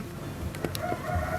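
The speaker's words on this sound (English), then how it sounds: "we woke up with that bloody rooster." A rooster crows at dawn near a boatyard, a single fairly short call rising above steady background noise, moderately near.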